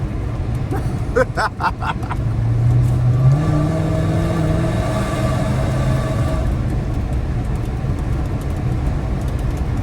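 A Dodge Hellcat's supercharged engine hums at part throttle around 3,000 RPM, rising briefly into a steady droning tone before settling into a low, even rumble.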